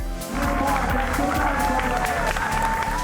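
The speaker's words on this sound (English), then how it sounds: "it attracted a huge and appreciative crowd" A large crowd cheers and claps at an uphill bike sprint in the Subaru NRS women's Amy Gillett tour, a dense, steady roar of voices and applause with no one speaking clearly over it.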